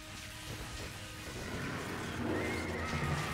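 A horse neighs in the video game Monster Hunter Freedom Unite, a rising whinny that swells toward the end over a steady, noisy game background.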